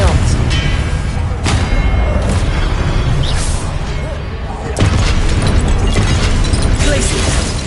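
Confringo spell explosions in Hogwarts Legacy: several loud, broad blasts burst out in turn over dense game effects, one after another at irregular gaps.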